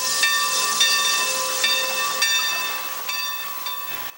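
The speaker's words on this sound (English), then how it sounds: "The Mikado steam locomotive that pulls the Skunk train through the rugged Mendocino lumberlands is the epitome of what a train should be." Mikado steam locomotive of the Skunk Train in the Mendocino lumberlands near Fort Bragg, California, with loud continuous steam hiss and a series of short whistle blasts sounding close and strong.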